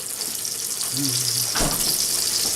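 Pork chops sizzle steadily in a hot pan, a bright crackling hiss throughout, with a brief clunk and a faint voice underneath.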